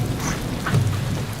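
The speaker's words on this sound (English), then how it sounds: "We're going back as it started raining" Steady monsoon rain hisses on surfaces in rural Nepal while low thunder rumbles beneath it, a dense, continuous wash of sound at close range with no voices.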